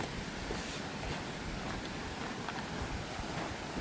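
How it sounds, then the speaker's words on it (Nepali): Steady rushing water of a small waterfall pours without pause, a dense, even roar close by, with no voices. "ओहो वाटरफल स्मल वाटरफल"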